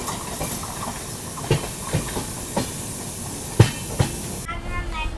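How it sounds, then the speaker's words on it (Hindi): The Rajdhani Express rolls over the rails into New Delhi station, giving a steady rumbling run punctuated by sharp wheel clacks at rail joints, fairly loud and close, before fading into a quieter hiss at the end. "चलो भाई साहब फाइनली पहुँच रही है अपनी ट्रेन अपनी destination new Delhi railway station"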